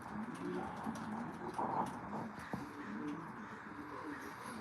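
Young pigeons at a loft coo softly in low, repeated murmurs, with light rustling and faint background noise around them, all at a quiet level.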